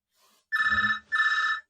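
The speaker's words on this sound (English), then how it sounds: "Hey, somebody on the phone." A telephone bell rings inside a phone box: two loud, close electronic trill bursts with a short gap between them.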